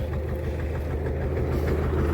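A tractor engine runs steadily at idle, a low rumbling drone with a faint rhythmic knock, close and continuous with no one speaking.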